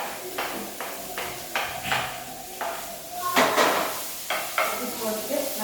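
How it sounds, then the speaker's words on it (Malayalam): Long-sliced onions hit a hot oiled pan and sizzle, then a spoon scrapes and clacks against the pan in repeated stirring strokes, up close and fairly loud. "ഇനി നമുക്ക് നമ്മുടെ സവാള ഇട്ട് കൊടുക്കാം കേട്ടോ"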